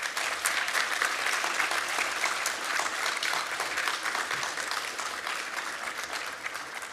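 A graduation ceremony audience claps loudly and continuously in a large hall, a thick, sustained roar of applause that tapers slightly toward the end.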